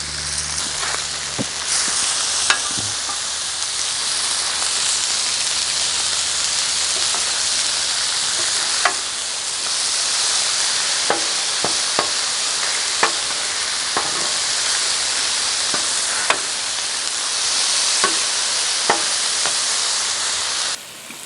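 French fries fry on a Blackstone griddle in a steady, dense sizzle that holds throughout, broken by occasional sharp metallic taps and scrapes, with no voices.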